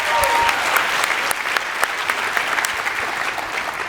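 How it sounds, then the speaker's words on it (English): An audience applauds at an award recognition for a Community Involvement Award. Sustained, even clapping from a crowd fills the whole stretch and fades slightly toward the end. "So another round of applause."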